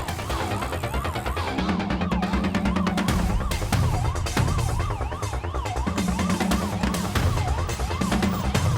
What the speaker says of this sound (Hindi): ए, पुलिस का सायरन है।